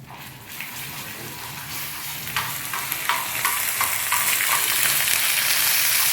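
Ginger garlic paste with turmeric and coriander powder frying in a pan, a steady bright sizzle that builds louder over the clip with a few soft stirring scrapes, close up and without voices.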